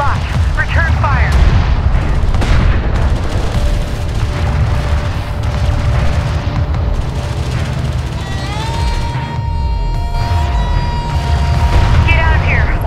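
Heavy battle fire from Homeworld: Deserts of Kharak, during the Torin Crater mission. Dense, continuous booms and gunfire roll on without a break. Radio voices, tones and beeps sound over the fighting.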